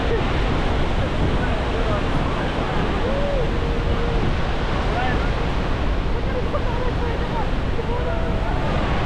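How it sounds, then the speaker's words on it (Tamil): Loud, steady roar of Niagara Falls, rushing water pouring continuously and filling the air, with faint voices mixed into the noise. "இந்த பிரம்மாண்டமான நாயகரா அருவியில் நனைய தயாரா?"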